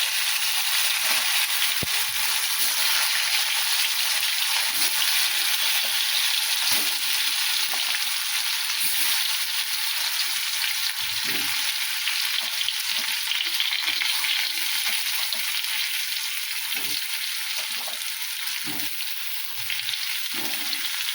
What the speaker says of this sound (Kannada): ಜೀರಿಗೆ ಹಾಕ್ತೀನಿ ನೋಡ್ರಿ. ಸಾಸಿವೆ ಹಾಕೋತೀನಿ ರೀ.